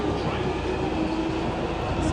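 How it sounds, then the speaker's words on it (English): A London Underground Metropolitan Line train approaches West Hampstead, giving a steady, loud rumble of wheels on rail with a faint tonal whine running throughout. "Metropolitan Line train approaching"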